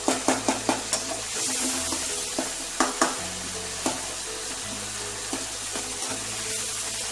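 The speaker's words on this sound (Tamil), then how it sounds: "தக்காளி ஆல்மோஸ்ட் முக்கால் பழம் வதங்கிடுச்சு." Tomatoes sauté in a pan for a yam kuzhambu, with a constant close sizzle and a quick run of spoon clicks against the pan at the start, then scattered knocks as stirring continues.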